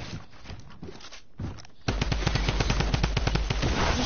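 Shotgun fire in a video game: after a softer stretch of action, a rapid, loud run of evenly spaced blasts fills the second half, close and continuous.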